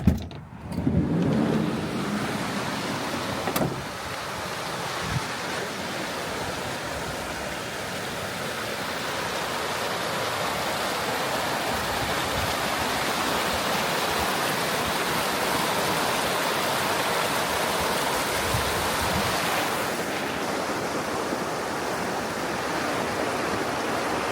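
A river flows beside a roadside camp spot as a big rainstorm moves in, giving a steady, full rushing roar that holds level throughout, with a few brief knocks early on and no voices.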